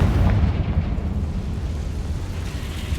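A Confringo spell blast in Hogwarts Legacy booms loudly at the start, then rolls on as a deep, heavy rumble that slowly fades.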